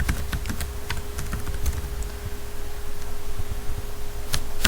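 Rapid clicking of computer keyboard keys while entering a spreadsheet formula, fast irregular taps over a steady low hum, with a final louder keystroke near the end.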